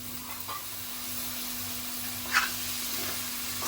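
Sprouted moth beans added to a pan with tomato pieces, a low continuous sizzle with a few brief stirring scrapes, close and with no talking.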